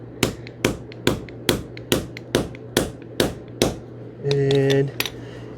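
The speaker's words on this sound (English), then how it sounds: "take my soft blow hammer" A soft blow hammer taps a cutting punch through fabric for a truck camper shell, about nine sharp, evenly spaced strikes close by, followed by a short tonal hum.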